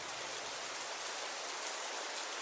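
Rain falls steadily at night in rural farmland, a dense, even hiss of drops on surfaces with no break or voice.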